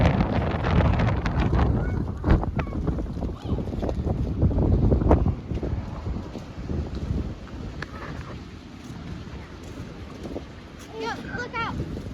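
Strong wind blows outdoors beside a woodpile where firewood is being split, a continuous loud buffeting rumble hitting the microphone with gusts and scattered knocks, and voices come and go beneath it.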